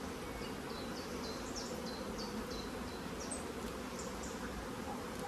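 Honey bees buzzing around a nucleus hive, a dense continuous drone close to the listener with no talking.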